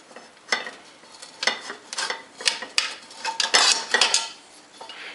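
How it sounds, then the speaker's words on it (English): Metal clattering against a pot as a candy thermometer is clipped onto the rim while making caramels, a series of close, sharp clinks and scrapes in uneven bursts, with no talking. "Always clip your thermometer to the pot before you start."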